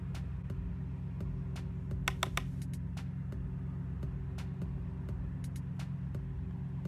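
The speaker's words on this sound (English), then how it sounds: "There is so many cars outside my house right now." Steady low rumble of cars passing outside a house, a continuous distant traffic drone with faint scattered ticks and clicks on top, no voices.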